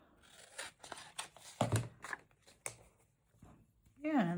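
Scissors snip and trim paper for a trash journal, producing a series of short, close, crisp cuts in irregular rhythm, with a voice speaking briefly near the end.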